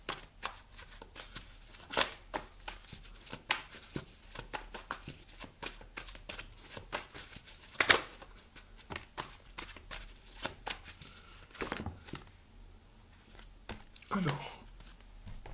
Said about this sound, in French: Je vais aller rajouter ici quelques cartes.